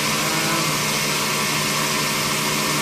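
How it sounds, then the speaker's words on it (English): A Mazak VTC-30C CNC vertical machining center runs its spindle at 4,500 RPM, giving a steady, loud mechanical whir with a constant high whine and no pauses or voices. "The Mazak BTC 30 in operation, spindle operation."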